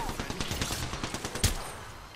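Gunfire in the video game Apex Legends crackles in a rapid stream of sharp shots, with one louder blast partway through, while players talk over the fighting.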